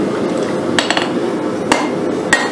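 Hammer blows forge a taper on the end of an old steel bolt, three or four sharp metallic strikes spaced irregularly over a constant background hum, with no voices.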